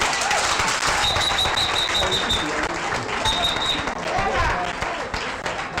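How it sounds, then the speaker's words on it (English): Audience applause at a Brekete Family Program outside broadcast, a steady wash of clapping from a crowd that runs through the whole stretch, with voices mixed in underneath. "Why are you people clapping?"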